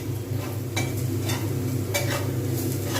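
Onions fry in a hot pan for an egg curry, a steady sizzle under repeated scraping stirs of a utensil against the metal, close and continuous with no talk.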